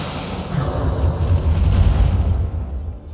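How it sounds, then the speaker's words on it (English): An LRM missile barrage in the BattleTech video game erupts in a dense, rumbling wall of overlapping explosions, loud and sustained for a few seconds before easing off. "let's just fire off some LRMs"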